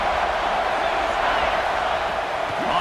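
A stadium crowd roars at a football game, a dense, steady wash of cheering noise that holds at a constant loud level throughout.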